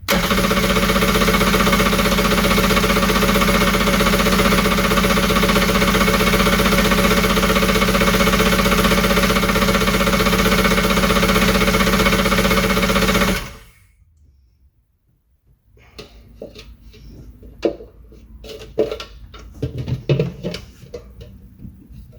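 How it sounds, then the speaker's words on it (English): A Kawasaki 750 SS motorcycle engine is cranked over, giving a loud, steady, rapid mechanical chatter for about thirteen seconds that then cuts off, followed by scattered clicks and light handling noises close by. "All right, so I'll spin the engine over here, see what we get."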